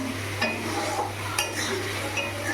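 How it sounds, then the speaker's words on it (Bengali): Potatoes stir-fried in oil and spices in a pan, a continuous soft sizzle with a couple of sharp scrapes of the spoon against the pan. "এখানে আলুগুলো দিয়ে দিচ্ছি আলুগুলো দিয়ে একটু ভালো করে কষায় নিই"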